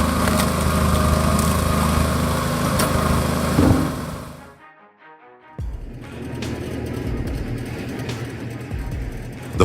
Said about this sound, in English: The Forced ST8 diesel is a powerhouse designed to efficiently chip bulky branches into wood chips.